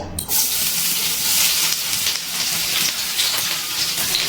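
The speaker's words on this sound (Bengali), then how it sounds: "এই তেলের মধ্যে দিয়ে দিচ্ছি মিডিয়াম সাইজের কেটে রাখা পেঁয়াজ" Medium-cut sliced onions hit hot oil and fry with a bright, continuous hissing sizzle that holds steady and close throughout.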